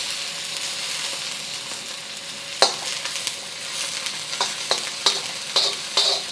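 Chilies, garlic and the white and light green parts of green onion fry slowly in corn oil, a continuous close sizzle broken by sharp clicks and scrapes of stirring, with no one talking.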